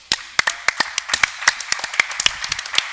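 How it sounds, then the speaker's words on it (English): Scattered clapping from a small crowd at a high school varsity basketball game, HAFTR Hawks vs Rambam, honoring an injured player; sharp, irregular individual claps close by, with no talk over them. "Let's clap it up for Daron."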